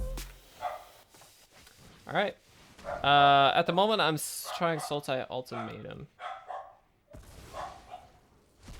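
A dog barks a few times in the background while a person talks continuously during an online Magic: The Gathering Arena card game session indoors.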